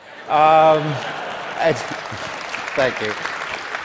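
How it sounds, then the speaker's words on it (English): Audience at a talk about fear and American politics breaks into applause and laughter, a continuous wash of clapping beneath a speaker's voice. "Yeah, please applaud that."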